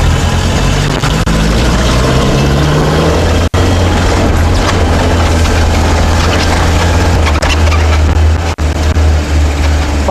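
A Volvo PV444 with a B16 engine, once rallied, drives steadily with a loud, constant engine drone and low rumble that continues for about ten seconds, with two brief dips in sound.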